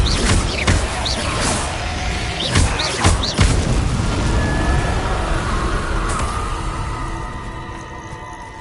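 Confringo blasting spell in Hogwarts Legacy: a run of loud booms and crashing impacts in the first few seconds, then a rumbling tail that fades and thins toward the end, no speech.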